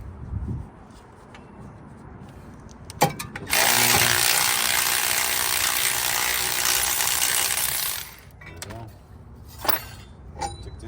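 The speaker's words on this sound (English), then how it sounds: "So, you grab your 22. Take the top bolt off." A socket wrench works the top brake caliper bracket bolt loose on a car, giving a few quick clicks followed by a loud, steady mechanical whir lasting several seconds, then quieter taps.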